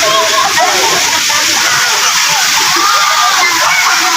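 Loud, continuous rushing river water fills the scene, a steady splashing slosh with no pauses.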